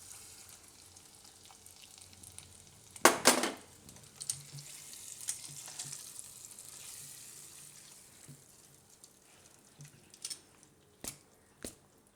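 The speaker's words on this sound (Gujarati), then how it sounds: "આ વઘાર આપણે ખીચડી ઉપર નાખી દઈશું." A tempering of red chillies in hot oil poured over suran khichdi, giving a sudden loud burst of sizzling that quickly fades into soft crackles and a few sharp clicks.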